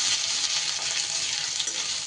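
Grated ginger fries in hot oil with panch phoron, making a dense, steady sizzle that stays even and close throughout, with no one speaking.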